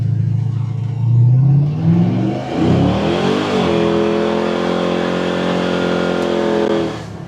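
An LS3-swapped square body truck on 26-inch wheels drives past and revs up, its deep V8 engine note climbing and holding steady and loud for several seconds before easing off.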